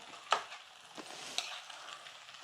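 Sliced mushrooms, broccoli and three green chillies split lengthwise are stirred in a pan. Three or four sharp scraping strokes cut through a low, quiet sizzle.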